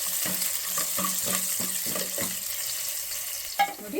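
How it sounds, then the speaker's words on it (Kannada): Curry leaves and onions sauté in a pan for chana masala, a continuous close sizzle with soft rhythmic stirring scrapes and a brief louder clatter near the end. "ಕರಿಬೇವು ಹಾಕಿ ಒಂದು ಅರ್ಧ ನಿಮಿಷ ಬಾಡಿಸ್ಕೊಳ್ಳೋಣ."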